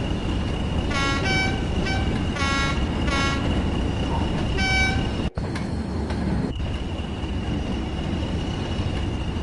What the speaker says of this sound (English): I'm just using the loco brake to try and slow down on a minute